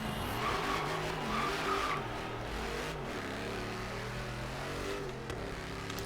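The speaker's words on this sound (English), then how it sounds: "we're going to see how much faster this 400-pound lighter, wide-body wider tire Hellcat Demon with 800 plus horsepower can go" A wide-body 2018 Dodge Challenger SRT Demon with over 800 horsepower drives hard in the racing game Forza Horizon 3. A steady, dense engine roar continues throughout, with tire squeal and skidding layered on top, and no one speaks.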